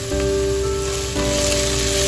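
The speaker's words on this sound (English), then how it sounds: "Add some cabbage and stir it for some time" Cabbage fries with red onion and garlic in a pan for a Finnish cabbage pie, giving a steady close sizzle that holds evenly throughout with a brief stirring scrape.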